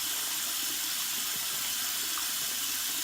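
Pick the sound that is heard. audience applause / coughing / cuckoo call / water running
water running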